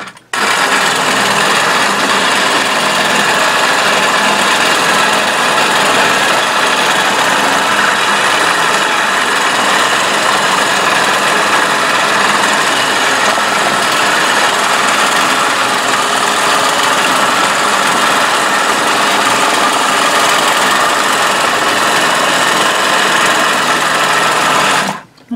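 A sewing machine runs continuously and loudly while quilting a disappearing 9-patch quilt, its fast, even stitching hum steady from start to finish with no pauses.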